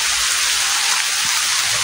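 Heavy rain pours steadily as a dense, loud, unbroken hiss with no pauses and no voices.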